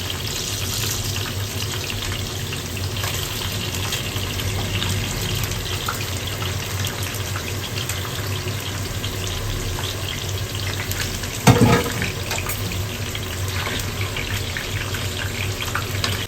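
Meat dropped into hot oil sizzles steadily throughout, a broad continuous frying hiss with a brief louder burst around the middle, no voices over it.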